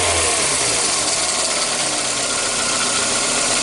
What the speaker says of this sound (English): So I'm just going to snap the throttle here